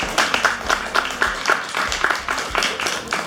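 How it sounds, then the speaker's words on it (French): Audience applause at a Creole Month book fair event in Montreal, heard as a run of quick, closely spaced claps at a moderate level for about three seconds, with no voices over it. "Est-ce qu'on peut applaudir cette belle mission?"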